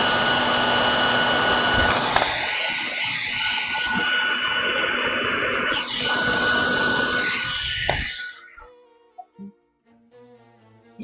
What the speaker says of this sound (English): I'm going to use my hairdryer real quick.